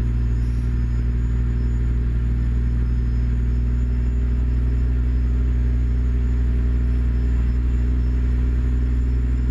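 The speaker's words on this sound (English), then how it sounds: "you guys can listen to the truck." Truck engine in American Truck Simulator, a Freightshaker hauling a Great Dane trailer, droning with a steady deep rumble while cruising, loud and constant with no talking.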